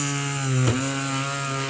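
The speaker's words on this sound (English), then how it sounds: "So right here in that little divot, I just start drilling" A small rotary drill boring a hole through a fruit pit held in pliers, a steady high whine whose pitch dips briefly as the bit bites, close and loud with no talk.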